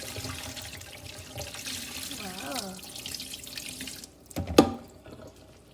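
Water running and trickling in a sink as soaked chickpeas are drained, a soft steady flow with a few drips and a sharper splash near the end.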